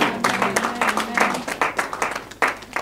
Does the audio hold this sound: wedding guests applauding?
yes